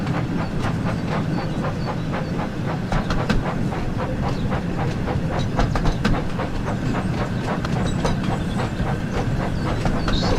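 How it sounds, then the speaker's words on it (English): Thomas the Tank Engine rolling along at steady speed in the Thomas and Friends: Wonders of Sodor video game, a continuous loud rumble with rhythmic clickety-clack of wheels on rail joints and light hiss, no talking. "I don't think I have to accelerate, just let Thomas going at this speed."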